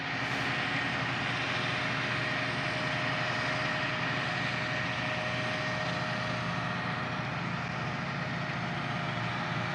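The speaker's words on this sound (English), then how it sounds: "you just heard the tractor go by" A loud, steady engine drone fills the whole stretch as a tractor planting corn passes close by, with no talking.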